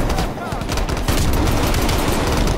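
Rapid bursts of gunfire from the video game Call of Duty Cold War crackle loud and continuous, with a player's voice mixed in under the shooting.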